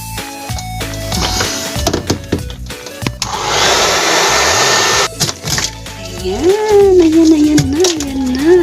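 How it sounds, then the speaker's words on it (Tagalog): A hair dryer blows hard at a freezer to defrost it and loosen built-up ice, a loud steady whoosh that stops and restarts, with clatter, scraping and talk around it. "kailangan din nating ulitin yung pag natin ng hair dryer"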